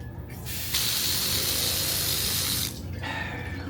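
Bathroom sink faucet at a cliffside ocean-view resort in El Nido, Palawan: water runs steadily with a hiss, surges louder for about two seconds, then drops back to a softer flow.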